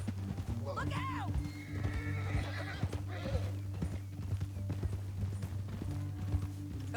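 Hooves clop rapidly as horses gallop in the video game Red Dead Redemption 2, with loud whinnies cutting through over a steady low electronic hum.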